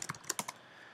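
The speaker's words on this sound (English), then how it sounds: "I can do that by typing these commands" A quick burst of keystrokes on a computer keyboard, about five crisp clicks close to the mic during the first half second, then quiet.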